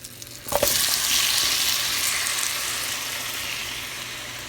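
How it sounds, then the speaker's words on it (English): Peach cobbler filling with vanilla cooks in a pot on the stove, a soft steady sizzle and bubbling that starts after a brief clink and continues evenly, close and fairly quiet with no talking. "we're going to cook it on the stove to break it down a bit"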